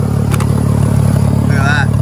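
A Ford Falcon AU skid car engine idling in a steady low rumble, loud and close, with a voice speaking briefly over it.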